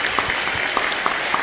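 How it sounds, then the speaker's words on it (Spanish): A church congregation gives a brief round of applause, steady clapping from many people with a few distinct louder claps standing out, lasting just over a second. "Un fuerte aplauso para ellos que se convirtieron y volvieron a la iglesia como Pablo."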